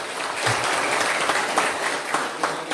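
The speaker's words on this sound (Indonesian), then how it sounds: "Tepuk tangan sekali lagi dulu Pak Kiai" Audience applause fills a research-results seminar hall, a steady, moderately loud wash of many hands clapping together, continuous and even throughout the short stretch.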